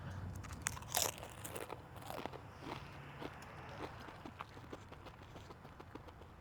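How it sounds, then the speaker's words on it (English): Someone crunches and chews a very spicy tortilla chip up close at a game day event, a series of sharp crackling bites followed by fainter irregular chewing. "The whole chip's been swallowed."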